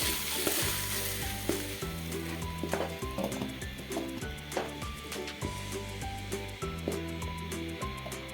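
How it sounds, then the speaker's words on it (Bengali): Green tomatoes fry in a pan, a clear bubbling sizzle with soft stirring scrapes, heard under rhythmic background music. "টমেটো ভাজা শেষ, এখন উঠাই নেব।"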